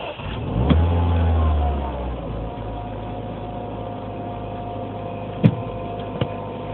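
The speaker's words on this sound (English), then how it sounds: "I'm going to give it a half throttle of gas." A 2007 Mini Cooper S engine is held at half throttle after a cold start with the check-engine light on, its loud steady rev holding for about a second before dropping back to a rough idle, with a couple of sharp clicks later.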